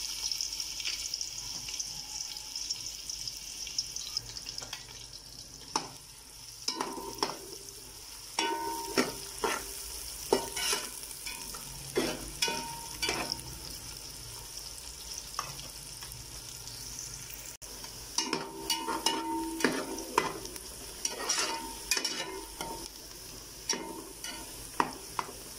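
Onions fry in a cup of hot oil in a cooking pot with a steady sizzle and frequent stirring clatters and scrapes, close and moderately loud, with no one talking.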